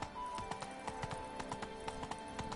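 Roach the horse's hooves clip-clop in The Witcher 3, a steady run of distinct strikes over a constant background hum, fairly close and moderately loud.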